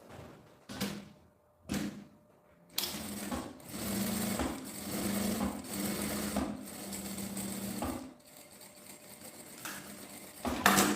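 A sewing machine stitches a seam on a small phone pouch and backstitches, with a few short separate bursts followed by longer close runs of rapid needle chatter and pauses between.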